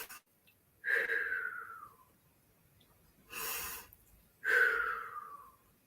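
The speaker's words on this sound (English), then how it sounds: "Start to take some deep breaths now." Three slow, deep breaths taken during a guided meditation, each a long airy inhale or exhale with a soft wheezy edge, separated by quiet pauses, close and alone with no talking.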